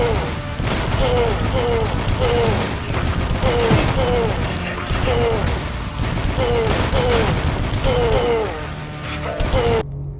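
Assault rifle fire in the retro first-person shooter DUSK, sustained rapid bursts repeating throughout, loud and dense with a steady mechanical rattle and no talk.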